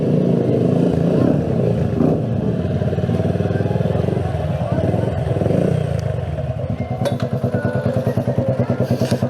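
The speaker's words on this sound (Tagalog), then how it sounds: "Ang ingay ng motor." A Keeway CR152 motorcycle engine runs loudly and close by, a steady rumble that turns into a choppy, pulsing putter toward the end, with people talking over it.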